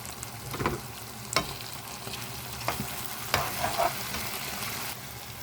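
Onions with green leaves frying in a pan for an aubergine dish, a steady sizzle broken by several sharp scrapes and clacks of stirring, close and fairly quiet.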